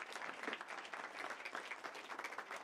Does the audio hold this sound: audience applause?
yes